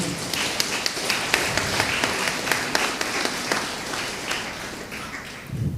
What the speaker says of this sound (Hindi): उन सबों के लिए जोरदार ताली बजाइएगा।